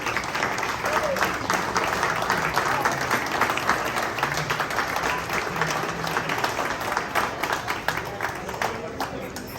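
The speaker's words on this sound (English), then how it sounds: "Let's give them all a round of applause." Audience applause for military veterans, spouses and active service members at an American flag dedication event at Chickie's and Pete's, a dense sustained wash of many hands clapping at steady loudness throughout, with faint voices underneath.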